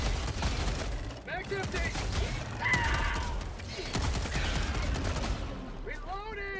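Gunfire rings out in the Helldivers 2 video game during a sniper rifle fight: repeated sharp reports and crashing impacts come in bursts amid battle noise, while a player talks over the action.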